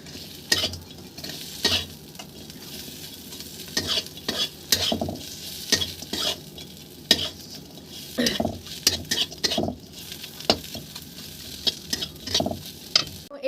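Fried fish pieces are tossed with masala in a sizzling pan, with repeated sharp scrapes and clatters of a spatula against metal over a steady low frying hiss.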